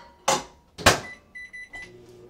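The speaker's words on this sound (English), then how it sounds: "And then now we just microwave this." A microwave oven warming mashed potatoes with milk: two sharp knocks like the door shutting, a short run of high keypad beeps, then a low steady hum as it starts running, close and fairly quiet.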